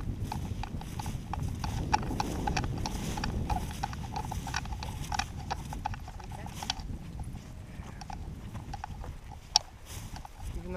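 Cattle hooves walk outdoors in a continuous irregular clip-clop of footfalls over a rumbling, scraping background, with occasional sharper knocks and a loud click near the end.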